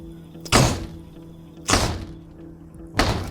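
A bleeding hand bangs on rattling glass in three heavy, evenly spaced thuds, loud and close, each with a short ringing decay over a low steady hum.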